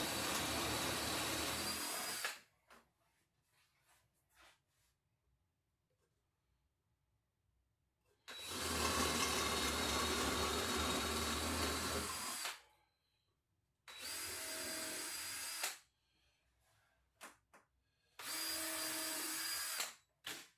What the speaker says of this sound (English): With a spade bit at 3/4 of an inch, I'm drilling about halfway into what's left